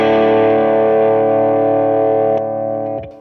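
A loud, sustained electric guitar chord rings through a compressor pedal, holding a thick, even level before dropping slightly as the pedal clicks off near the end, followed by a brief muted scrape.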